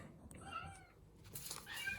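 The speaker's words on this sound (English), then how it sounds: "Yes, my cat is back again." A male house cat meowing indoors: a few faint, drawn-out meows with rising and falling pitch over a quiet room hum, followed by a louder rustle or scuffle, with no talking.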